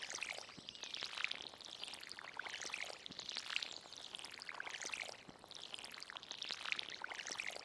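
A watering can sprinkles crops in the Stardew Valley video game, giving faint, soft splashing pours that repeat in short waves with no voices.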